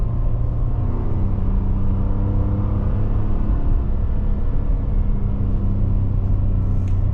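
2023 Ford F-150 XL Rattler 4x4 under acceleration, a deep, steady rumbling engine drone heard from inside the cab, even and continuous, with no talking.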